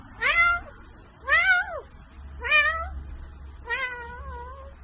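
Four realistic cat meows imitated by a human voice, evenly spaced and close, each rising then falling in pitch, with quiet pauses between them.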